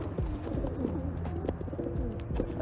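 Several pigeons coo steadily and close together in a group, held before their first release toss, with soft overlapping calls and light shuffling.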